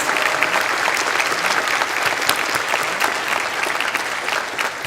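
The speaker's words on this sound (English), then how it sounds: "give a warm round of applause to our parents and families who are here with us" An audience at the Penn Carey Law 2023 commencement ceremony applauds parents and families, a loud, dense, sustained roar of many hands clapping with some crowd noise mixed in.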